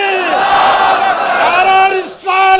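A crowd chants a religious slogan in unison at a Sufi gathering, loud and sustained voices rising together, briefly dipping near the end before the chant resumes.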